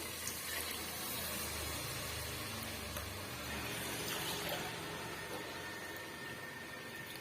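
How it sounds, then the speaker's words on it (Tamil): Continuous splashing hiss of water pouring into a cooking pot of kuska rice with coconut milk, steady and close, with no talking. "இப்போ நம்ம தண்ணி சேர்த்துக்கலாம்"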